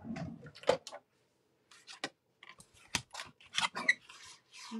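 Scissors snip through paper for a handmade card in short, close, crisp cuts separated by pauses, with a low rustle at the start.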